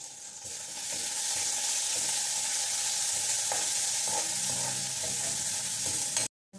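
Onions frying in hot oil for a kadhi tempering, a steady close sizzle with spattering crackles and occasional stirring, lasting several seconds before cutting off abruptly.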